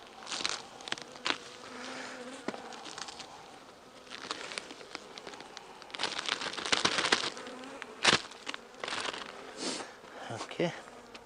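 Honey bees buzz steadily around an open hive while a winter patty is being added, a dense close insect drone with scattered crackles and handling noises on top.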